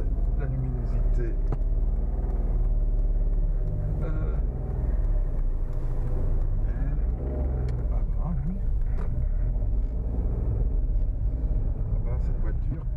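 A Toyota Aygo that breaks down along the way idles and drives on a November day, with a steady low engine rumble throughout and a voice speaking over it.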